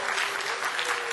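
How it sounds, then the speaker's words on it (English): Audience applause at a conference session fills the whole moment, a dense steady clatter of many clapping hands with no voices over it. "So applaud if you're enjoying"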